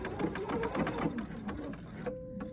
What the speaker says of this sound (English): So now I'm gonna stitch across the top.